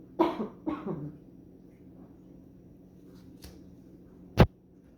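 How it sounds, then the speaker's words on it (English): Two quick coughs close to the microphone, then near-silence broken by faint shuffles and one sharp knock. "I didn't want to cough in your ear."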